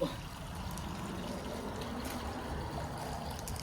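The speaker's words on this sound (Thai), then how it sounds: "เนี่ยน้ำตก" A waterfall in a natural setting produces a steady, broadband rushing wash of falling water, continuous and moderately loud from start to finish, with no talk over it.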